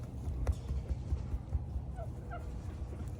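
Several big farm birds, probably turkeys, gobble in short bursts against a steady low rumble outdoors, with a couple of faint higher calls near the end and no talking.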